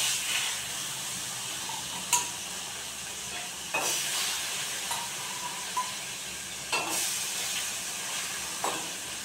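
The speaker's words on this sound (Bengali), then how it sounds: "তো এই 2 পিস মাছ আমি এখন ভাজা বসিয়ে দেবো।" Two pieces of hilsa fish frying in a pan give a steady, close sizzling hiss with occasional sharper crackles and pops, heard without any speech.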